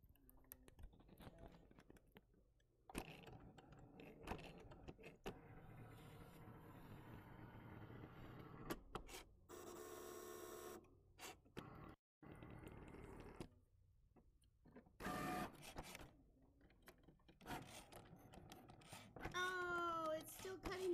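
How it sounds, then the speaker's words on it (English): A Cricut cutting machine cuts small paper pieces such as QR code shapes, producing faint mechanical whirring, buzzing carriage movements and clicks at a low level, with occasional quiet voices in the background. "it's cutting out each little QR code thing again"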